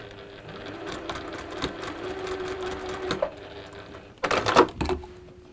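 A sewing machine closes the turning gap in a piece of textile, whirring at moderate level with some clicks, then finishing in a louder, brief burst of rapid stitching near the end.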